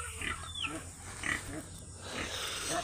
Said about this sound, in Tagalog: Pagkain lang tayo sa mga alaga natin baboy mga idol.